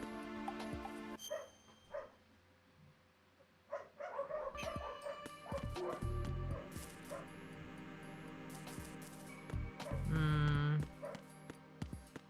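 Dogs from the video game Metal Gear Solid 2 bark, yip and whimper in scattered bursts amid game sound effects and music tones, moderately loud and up close.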